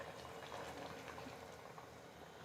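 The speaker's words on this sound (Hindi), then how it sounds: "पानी में अच्छा सा बॉईल आ गया है" Salted water boils in a pot on the stove before rice goes in for white mutton pulao, a steady quiet bubbling hiss with no talk over it.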